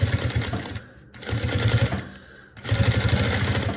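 A sewing machine runs a tacking stitch on a baby document case: close, rapid mechanical clatter in three bursts separated by two brief pauses.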